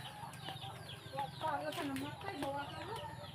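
Chickens cluck in an outdoor rural yard, several short, close calls rising and falling over a few seconds, with a steady background hum and faint activity around them.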